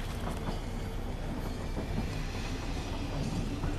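A train in the Fortnite video game rumbles steadily, a dense, loud rolling roar of rail noise that stays constant throughout with no voices.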